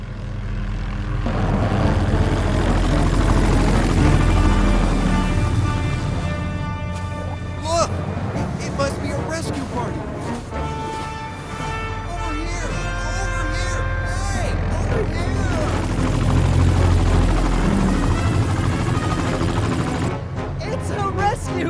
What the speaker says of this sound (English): It's a helicopter. It's the sound of a helicopter.